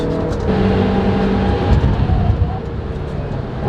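Mazda Miata race car engine droning loudly and steadily as it overtakes another car on the wet Silesia Ring circuit, with the revs rising slightly midway.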